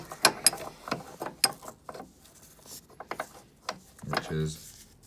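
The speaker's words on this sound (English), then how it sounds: "this is just a brake pipe spanner from Draper, 11mm." An 11mm Draper brake pipe spanner works loose the brake pipes in a car engine bay, giving sharp metallic clicks and scrapes in irregular bursts, close up, with short pauses and no talk.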